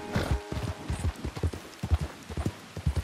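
Horse hooves clip-clop in Red Dead Redemption 2, a steady walking rhythm of close, distinct thuds with no talk over them.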